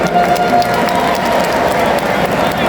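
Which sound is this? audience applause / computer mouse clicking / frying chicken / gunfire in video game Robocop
audience applause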